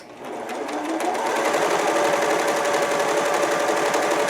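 An Elna 945 cover stitch machine runs steadily as it sews through fabric, a close, continuous mechanical whir that starts up and then holds at a fast, even pace with no talking.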